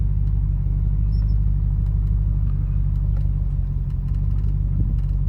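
A 1994 Range Rover creeps slowly up a hill, its engine a steady low rumble and drone held close throughout, with faint scattered ticks and knocks above it and no talk.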